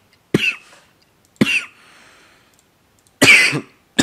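A person coughing close to the microphone, three or four sharp, harsh bursts separated by quiet pauses, alone with no speech.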